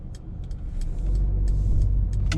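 A 2020 Mercedes-Benz A180 (W177) with automatic gearbox drives along a busy road on a Saturday, giving a steady low engine and road rumble that builds slightly, with faint passing traffic hiss above it.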